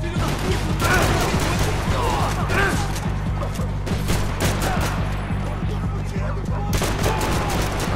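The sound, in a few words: gunfire in the video game Max Payne 3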